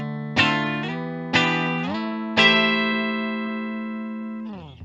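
A 2021 Fender Player Plus HSS Stratocaster on the middle and split bridge pickups plays clean electric guitar chords with a thin, bright tone, struck three times and left to sustain before being muted.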